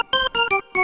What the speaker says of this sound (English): If you want to enable the percussion, which is like a ping to the start of the sound